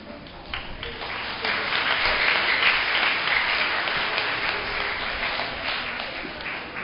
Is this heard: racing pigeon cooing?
no